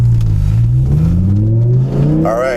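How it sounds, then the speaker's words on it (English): A 2011 Audi R8 with a V10 engine revs up loud and close from inside the car, its pitch climbing steadily across the clip, with a brief spoken word at the start. "I'm sure the sound of that glorious V10 won't hurt your ears too badly"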